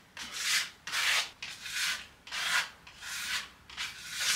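Wall filler is being spread across an apartment wall with a scraping spatula in five or six steady sweeping strokes, each a rhythmic rasping swipe heard close up in a quiet room.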